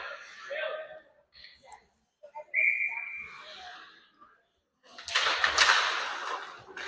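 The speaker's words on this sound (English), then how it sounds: "Shot gloved by Perkins and held on to for a whistle" A referee's whistle stops play at an ice hockey game between the Haldimand RiverKings and the Icemen: one sustained, clear blast of about a second, set among arena crowd noise and play-by-play commentary, with the crowd swelling loudly afterwards.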